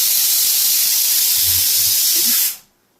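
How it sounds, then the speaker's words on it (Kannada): A pressure cooker cooking moong dal lets off a loud, steady hiss of escaping steam close by for about two and a half seconds before it cuts off abruptly. "ಇದನ್ನು 3 ವಿಸಿಲ್ ಆಗೋವರೆಗೂ ಹಾಗೆ ಬಿಡಬೇಕು. 3 ವಿಸಿಲ್ ಆದಮೇಲೆ ಗ್ಯಾಸ್ ಆಫ್ ಮಾಡಬೇಕು."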